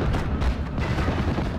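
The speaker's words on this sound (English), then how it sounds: "In comes bombs from the FW-190 G3, and that's going to pin down the rifle squad." Bombs dropped by FW-190 G3 aircraft burst over a rifle squad in a Steel Division: Normandy 44 battle, a dense, sustained rumble of loud blasts with no voices over it.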